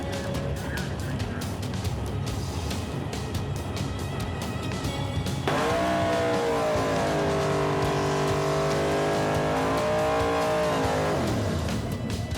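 Race car in an on-track run, engine loud and continuous throughout, rising and falling as the throttle goes on and off, with a sharp rev change midway and sustained harmonic engine drone afterward.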